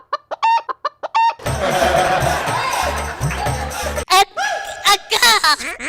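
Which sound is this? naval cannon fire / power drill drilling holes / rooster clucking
rooster clucking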